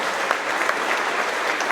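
Round of applause from an audience at a Melton Truck Lines monthly company celebration, steady dense clapping holding evenly at moderate level across the whole short stretch.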